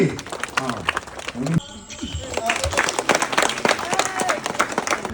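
An audience claps at an inauguration, with scattered hand claps rising into brief applause that is mixed with voices talking over it.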